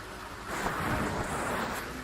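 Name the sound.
lightning spell thunder in Fable The Lost Chapters video game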